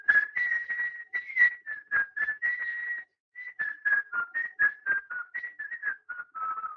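A person whistles a Disney tune solo, a bright clear melody of short, rhythmic phrases with a brief pause midway, close and alone with no talking.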